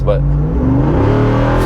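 A 2022 Jeep Wrangler Rubicon 392 V8 is run hard under full throttle, with a deep, steady engine roar filling the brief moment while someone talks over it.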